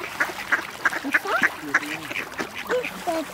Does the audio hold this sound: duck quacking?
yes